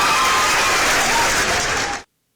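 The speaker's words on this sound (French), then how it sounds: "Applaudissez, non, applaudissez sérieusement." Audience applause during a French-language discussion of Cameroonian politics: a thick, even burst of clapping that holds for about two seconds and then cuts off abruptly into silence.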